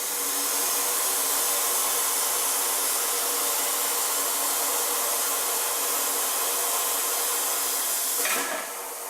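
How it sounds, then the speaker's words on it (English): Pipe-cutting machine making a straight 90-degree miter cut on pipe, a loud steady whirring grind that runs without a break and stops abruptly near the end. "This cut is a straight miter cut for an end trim for our piece."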